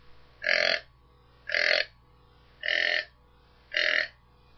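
Four evenly spaced, drawn-out guttural tending grunts from a buck deer, each about half a second long, with short pauses between, close and clear.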